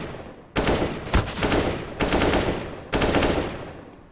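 Automatic gunfire sprays in a competitive shooter video game, three loud sustained bursts separated by brief gaps, with a sharp crack inside the first burst.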